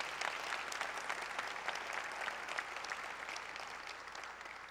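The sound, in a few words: audience applause at a meeting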